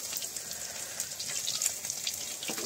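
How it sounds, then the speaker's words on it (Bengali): Rohu fish pieces fry in hot oil over a traditional village clay stove, a steady close hiss of crackling oil with light spatters, no voices present. "কিছুক্ষণ ভাজার পরে বন্ধুরা মাছটিকে এবার আমরা একটি পাত্রে তুলে নেব"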